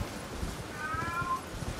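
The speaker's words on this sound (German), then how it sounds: "Diese Katze." A single cat lets out a faint, drawn-out meow partway through, thin and somewhat distant against a low rumbling background, with no talking.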